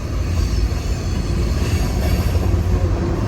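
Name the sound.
CSX freight train with six engines passing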